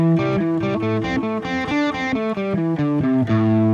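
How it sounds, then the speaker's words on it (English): Electric guitar solo played open and unmuted, notes ringing fully with a bright, slightly distorted tone in a fast, continuous run of separate picked notes, close and loud with no voice. "soloing without any muting."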